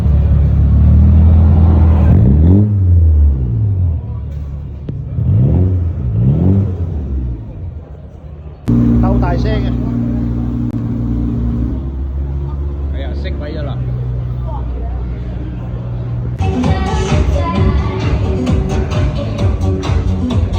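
A Lamborghini V12 at a car show blips its throttle in loud, rising-and-falling revs, then settles into a deep, steady idle rumble, with other engine noise and voices from the crowd around it.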